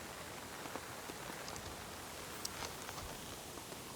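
Heavy rain falls steadily on a tent at a campsite during a storm, a dense continuous patter with scattered louder drops, close and even throughout with no talking.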